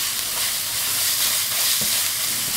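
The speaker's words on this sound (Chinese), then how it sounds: "放入我们擦好的胡萝卜丝。 胡萝卜炒一下" Shredded carrots stir-fried in a wok after Sichuan peppercorns are removed from the oil, giving a steady close sizzle with a faint scrape of stirring partway through.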